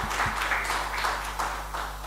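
A soft smattering of applause at a law college webinar, diffuse and fairly faint. A steady low hum and some room noise sit beneath it, and the clapping carries on evenly with no clear individual claps standing out.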